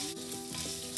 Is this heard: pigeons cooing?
no